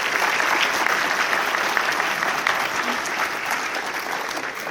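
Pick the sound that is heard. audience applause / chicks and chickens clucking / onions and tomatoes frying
audience applause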